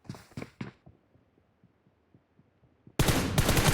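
Gunfire in PUBG Mobile: a quick burst of close, thudding shots at the start, then faint scattered distant pops and near silence before a sudden loud roaring wash of noise at the end.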